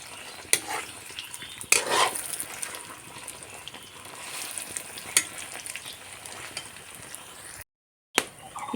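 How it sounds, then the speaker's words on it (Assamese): Tamarind frying in a pan for pickle, a continuous sizzle with occasional utensil scrapes and clatter, close and moderately loud, with a brief gap of silence near the end. "এতিয়া অলপ সময় তেতেলীখিনি ভাজি থাকিম।"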